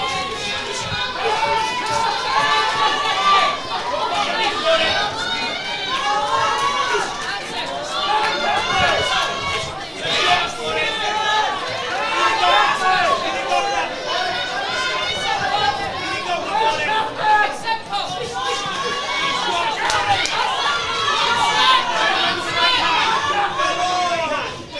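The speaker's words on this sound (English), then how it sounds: "So crowd really starting to lift the roof." A loud, dense crowd roars and chatters steadily inside a marquee at an all-female boxing show, with overlapping voices, cheering and shouting layered in a constant wall of noise that never drops away.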